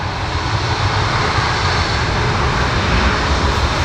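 Alaska Airlines Boeing 737 Max 8 at Portland airport, a loud steady jet engine roar with broadband rumble and hiss that holds constant throughout, no talking.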